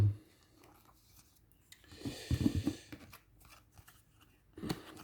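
Scissors snip through a thin adhesive decorative strip for a Lamborghini Miura P400 SV model kit, a short cluster of crisp cuts in the middle followed by a brief snip near the end, close and fairly quiet.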